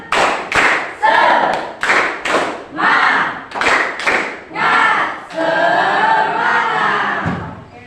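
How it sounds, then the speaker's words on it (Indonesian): A school class performs a tepuk semangat clapping chant as an icebreaker: loud unison claps in rhythmic bursts with shouted group voices, ending in a sustained chanted cry from many children in a classroom. "ice breaking andalan kita adalah tepuk semangat"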